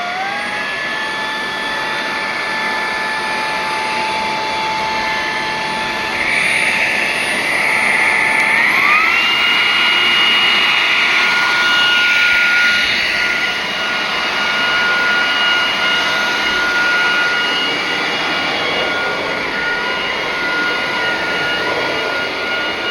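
Atvel G9 cordless handheld vacuum cleaner cleaning carpets, running with a steady high-pitched motor whine that rises in pitch as power is increased, close and continuous throughout.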